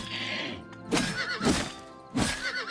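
Horse in the video game Oblivion Remastered whinnying and neighing in three loud, close bursts, each with a breathy snort, over a faint hoofbeat clatter and no talk.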